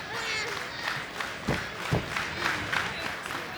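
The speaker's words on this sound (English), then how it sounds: "Crowd trying to rally behind Taylor Rising here, the challenger." A professional wrestling crowd in Windsor, Ontario cheers and chants to rally behind challenger Taylor Rising, a continuous arena roar with rhythmic shouts and a few sharp thuds rising through it.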